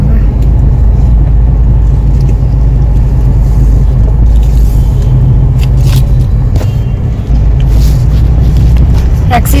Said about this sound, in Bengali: অ্যাক্সিস মলের আমরা ভেতরে প্রথম পার্কিং করছি